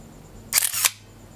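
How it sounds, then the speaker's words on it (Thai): One crisp SLR shutter snap followed by a brief motor-drive wind, a single close burst lasting under half a second with silence around it. "นี่เสียงจากมอเตอร์ได"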